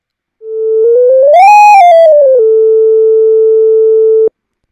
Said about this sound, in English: I can change that to sawtooth wave, triangle wave, and sine wave again